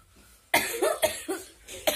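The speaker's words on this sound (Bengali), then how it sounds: "হাসতে হাসতে আমার কাশি উঠে যাচ্ছে" A person coughing while laughing, a burst of several quick, close coughs in a rough rhythm, then one more cough after a short pause, loud against a quiet room.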